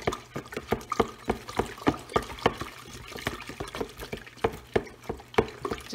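A wooden stick stirs bread dough in a bowl, making a quiet, steady series of soft wet knocks and squelches at a brisk, even rhythm.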